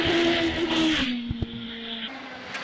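A 4-litre Judd-powered GR59 hill climb race car, its engine holding a loud high steady note that drops as revs fall, followed by a few sharp bangs and a quieter idle, without talk.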